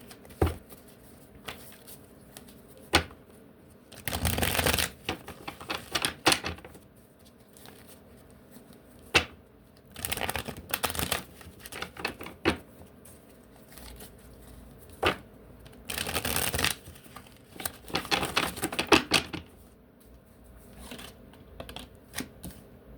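A deck of oracle cards handled and shuffled close by in a quiet room: bursts of papery riffling and flicking alternate with soft taps and shuffles over about twenty seconds, no talking.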